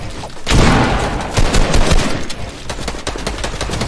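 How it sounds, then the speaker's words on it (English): Fortnite gunfire rattles in rapid, dense bursts close by, a loud fusillade of overlapping shots and impacts that keeps going almost without pause. "They're just shooting through my build."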